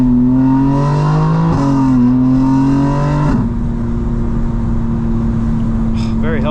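A 2025 BMW M4 CS or a 2023 C8 Corvette accelerates hard, the engine note climbing through the revs and shifting before settling into a steady loud drone, heard close from inside.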